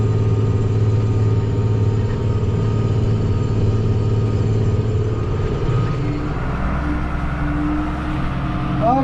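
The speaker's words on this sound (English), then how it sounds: "TM125 loader tractor here" A TM125 loader tractor's engine runs steadily with a low, even rumble close by, easing to a lower idle note in the last few seconds.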